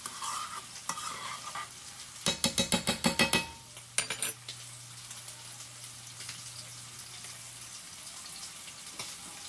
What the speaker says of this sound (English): we're going to let our onions and bell peppers cook down